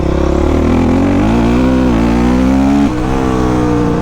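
A motorbike engine runs close and loud with a steady droning hum, its pitch rising and falling slightly as it rides over gravel, then dipping briefly near the end.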